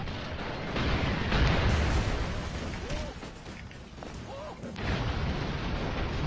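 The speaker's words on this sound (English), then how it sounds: "Explosions!" Dense, rumbling explosions and gunfire from the side-scrolling action game Broforce roar continuously, loud and layered, with faint game effects in the mix.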